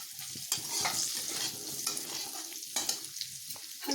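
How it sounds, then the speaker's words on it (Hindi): Potatoes fry in just a few drops of oil in a kadhai, a close crackling sizzle broken by repeated scraping stirs, with no speech. "इस कढ़ाई में और थोड़ा सा ही 2-4 बूंद तेल डाल के ये आलू को भी गैस से फ्राई करेंगे"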